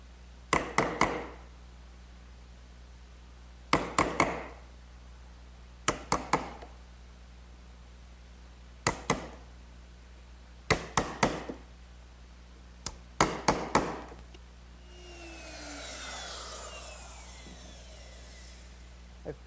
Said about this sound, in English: To finish the mortise, I'll just use a couple sharp chisels to square it up.